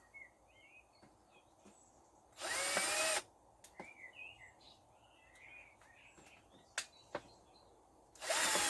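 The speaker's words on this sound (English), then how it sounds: "So we're just drilling a few holes" Two short bursts of a power drill whirring loudly as it bores drainage holes in a plastic bottle, separated by several seconds, with birds chirping outdoors in between.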